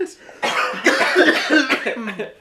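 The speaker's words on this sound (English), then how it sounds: "also because of excessive coughing" A man coughs hard and repeatedly right at the microphone, a loud, rough burst lasting about two seconds during a casual gaming commentary session.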